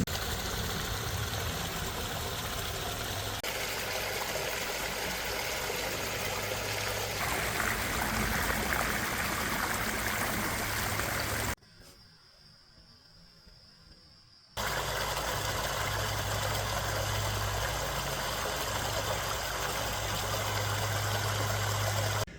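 Rebuilt garden pond waterfall running, a steady broadband rush of falling water that holds constant and briefly drops away before returning at full strength, with no talking over it.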